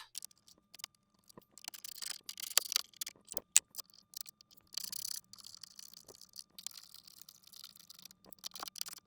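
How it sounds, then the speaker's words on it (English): Bolts being reinstalled into a Volvo XC dashboard, a sparse series of small metallic clicks, taps and ratchet-like ticks close by, with quiet gaps between them. "And now we can reinstall the 4 bolts"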